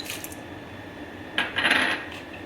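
Whole dried spices for homemade garam masala, black cardamom and cloves, are dropped into a metal pan or bowl, giving a brief bright clatter of small pieces striking metal, with no speech.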